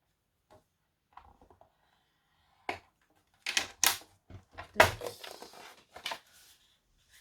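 A bone folder drags and presses across paper to set a crease for a handmade album, heard as a series of close, sharp rubbing swipes and taps in short bursts separated by quiet.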